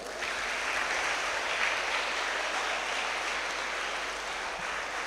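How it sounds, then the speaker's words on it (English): Sustained applause from a school audience at an investiture ceremony, a dense, even patter of clapping that holds steady for several seconds with no talking. "Give a loud clap to her."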